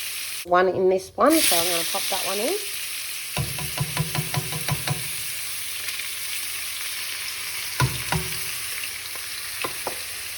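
A single finely diced brown onion frying in a pan with spoon stirring and clinks, a short sizzle after a burst of noise at the start, then intermittent scraping taps over a steady low hiss.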